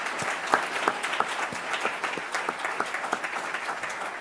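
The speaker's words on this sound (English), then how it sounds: "Let's give our principals a round of applause." A school-district audience applauds its principals, a dense wash of many hands clapping steadily with sharper individual claps standing out, sustained and fairly close throughout.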